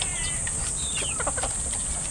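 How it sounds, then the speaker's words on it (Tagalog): Chickens clucking close by as they gather to be fed, several short clucks and calls over a constant background hiss. "Biglang dumami yung mga manok at alam nilang pakakainin ko rin"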